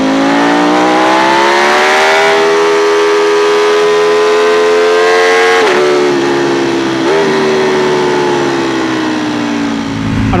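A Ducati Panigale V4 Speciale superbike engine screams loud and close, its pitch climbing steadily through the revs, then dropping in sharp quickshifter steps before rising again, with no talk over it.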